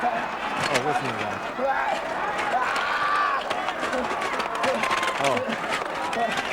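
A large crowd at a 1997 FMW King of the Deathmatch wrestling event roars and cheers in a steady, dense wash of noise that never lets up, with scattered shouts rising above it.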